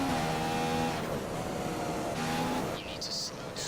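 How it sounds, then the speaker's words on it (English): A race car engine in the F1 2015 video game holds a high whine, dips briefly on light throttle lifts, then climbs again; a voice talks over it. "Slight little releases of the throttle through there"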